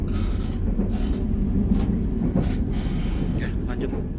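The Imperial luxury tourist train on the Jogja–Jakarta line rolls steadily on its rails, a continuous loud rumble with faint rhythmic clatter and muffled cabin noise throughout.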